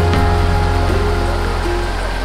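Skullabas waterfall, a steady loud roar of rushing water that fills the whole short stretch without pause, heard alone and close.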